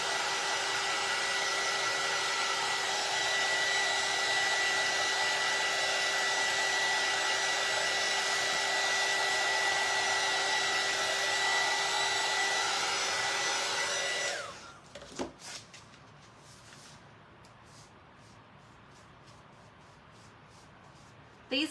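A hair dryer blows loud and steady close by while drying painted nails, then switches off about two-thirds through, leaving a quiet room with a few small knocks.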